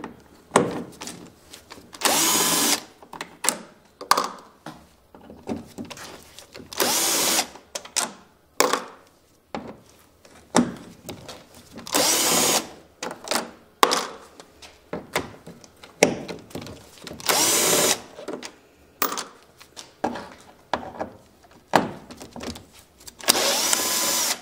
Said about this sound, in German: Dann die 6 Schrauben mit einem T30 Torx abschrauben.